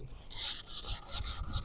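Close, raspy strokes of sandpaper rubbing along a fire-hardened sassafras wood bow, about four even passes in a steady rhythm, with no voices.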